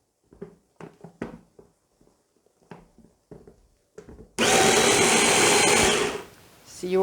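A food processor blends olive pâté with garlic, a loud steady whirring roar that starts abruptly after a few seconds of speech, dips briefly, then surges again.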